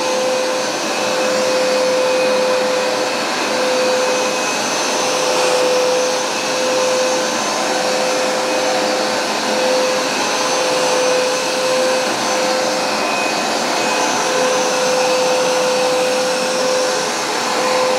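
A Hoover SmartWash carpet cleaner runs on carpet with a loud, steady motor whine and suction roar. The sound is close and continuous, with no voices over it.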